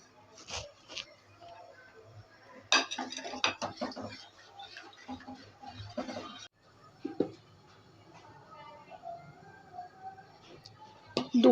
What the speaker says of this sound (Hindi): और मुस्तकिल चलाते रहेंगे कि कहीं इसमें गुठली ना बन जाए।